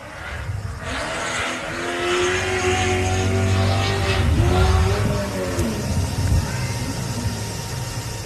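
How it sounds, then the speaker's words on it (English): A Joe Gibbs-built V8 race car engine revs loudly at a race meeting, its pitch climbing and shifting as it passes, with steady roar and background crowd or track noise throughout. "Listen to that Joe Gibbs V8 power by Robinson."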